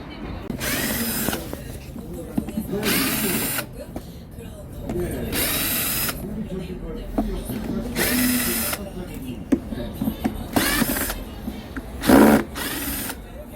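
A power tool drives screws out of the footboard of a Suzuki Address 125 fuel-injected scooter, whirring in about seven short bursts with someone talking in the gaps between them.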